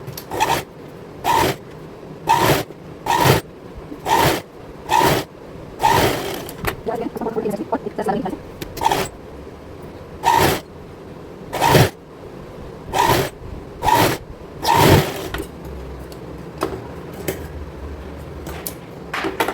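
A sewing machine press-stitches folded fabric for a small girl's cord set, running in short, regular loud bursts with brief pauses between them, and a voice occasionally heard alongside.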